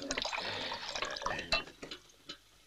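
Water is poured into a glass or cup at a table in a 1970 German western, a short trickling splash with small drips near the end, close and fairly quiet.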